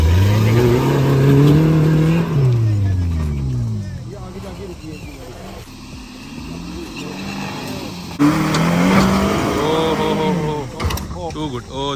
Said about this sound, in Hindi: सादिक भाई की मिनी रूबिकॉन आ रही है